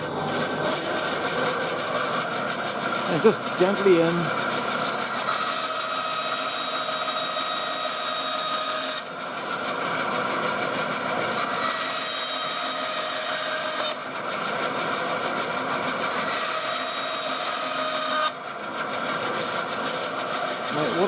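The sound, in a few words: saw cutting a wooden pen blank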